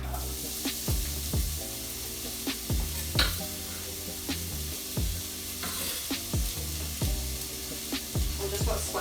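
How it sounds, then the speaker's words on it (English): Diced onions sizzle and crackle steadily in a hot pan, with repeated sharp scrapes and clinks of stirring against the pan throughout, no talking. "onions all diced up, I'm going to pop that in the pan"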